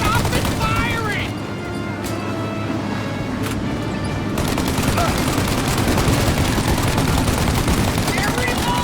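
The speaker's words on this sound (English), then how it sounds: "Shoot the gun! Then reload! Shoot!" Video game gunfire in rapid bursts and continuous rattling volleys, loud and dense, with excited voices shouting over it.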